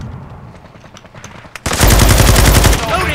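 Rapid automatic gunfire from a newly equipped video game gun erupts loud and close after a quieter stretch of background game noise, sustained as a dense burst for over a second.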